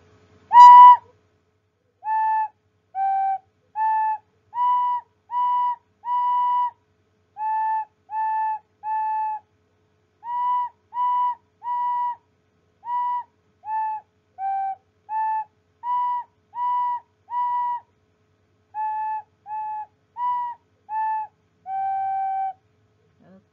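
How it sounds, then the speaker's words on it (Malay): A recorder blown by a teacher in a classroom plays a melody of about twenty short, clear, steady notes in separate phrases, heard alone and at moderate loudness. "di sini cikgu ada recorder"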